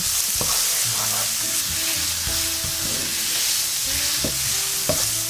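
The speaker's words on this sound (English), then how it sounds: "On a preheated surface, spread out the onion and mix it well." Onion sizzles steadily in vegetable oil in a preheated pan while a utensil stirs it, with clicks and scrapes of the spatula standing out over the constant close frying hiss.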